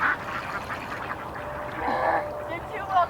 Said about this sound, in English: This time of year the ducks are more shy